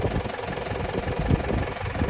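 Vehicle engine idling after a carbon cleaner treatment, a faint steady low throb with slight rhythmic pulsing and vibration, no talking over it.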